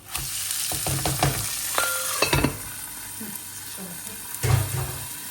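Liquid poured into a hot pan in a home kitchen, then stirred: steady sizzling and frying with the scrape of a utensil, clinks against the pan and bursts of louder spattering.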